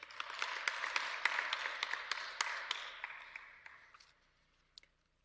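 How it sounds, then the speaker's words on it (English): Students at a climate change workshop are applauded by the audience, a quiet wash of scattered clapping that swells briefly and then fades out to near silence. "Can we give them a round of applause?"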